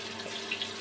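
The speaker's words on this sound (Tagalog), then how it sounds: "banlawan po natin yung karne" Tap water runs steadily into a sink while meat for menudo is rinsed, a soft continuous wash of flow with a couple of faint splashes, fairly quiet and close.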